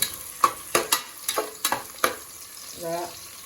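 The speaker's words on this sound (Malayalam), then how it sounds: "ഇതൊന്ന് കുറച്ച് നല്ലോണം വഴറ്റിയിട്ട്" Whole spices such as cinnamon sautéed and stirred in a pan: a run of sharp, irregular scraping strokes against the metal over a low sizzle, then a brief softer rattle at the end.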